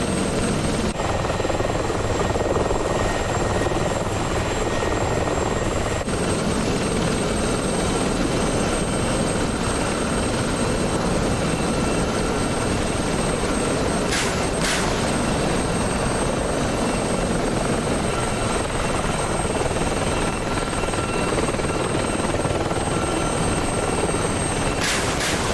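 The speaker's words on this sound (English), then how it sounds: "Meanwhile, the helicopters are doing helicopter things." Helicopters flying in the DCS combat flight-simulator game, in a reenactment of the 1986 French operation against Libyan forces in Chad, giving a loud, steady rotor drone that carries on unbroken throughout, with no voices over it.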